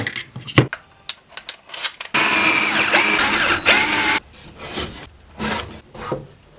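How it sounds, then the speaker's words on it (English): A power drill bores a dowel hole through stacked 2x4 wood boards, a loud continuous grinding burst of about two seconds, set between scraping, knocking handling noises of wood and tools. "I've got to get that one dowel drilled through all the 2x4s"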